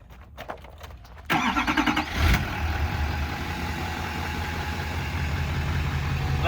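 A diesel dually pickup truck, a Texas tow rig, cranks over and fires up, then settles into a steady, loud, rumbling idle that holds close by to the end.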